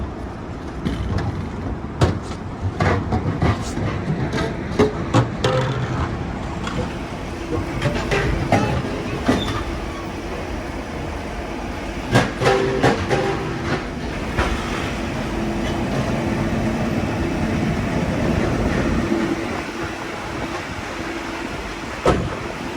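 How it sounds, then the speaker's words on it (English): Inside a train carrying cars to France, a continuous low rumble with scattered clanks and clickety-clack thuds from the rails, close and loud, with a few brief bumps. "Are we inside a train?"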